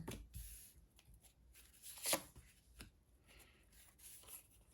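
Quiet riffling and flicking of playing cards being shuffled close by, with a few sharper snaps among soft papery rustles.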